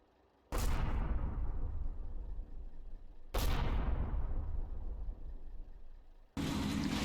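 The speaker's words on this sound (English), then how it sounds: "My mortar rounds are falling close, but they have been well clustered" Mortar barrage in the WWII strategy game Combat Mission Kampfgruppe Peiper: two loud, close shell impacts a few seconds apart, each a heavy boom with a long rumbling decay, then a third blast starting at the end.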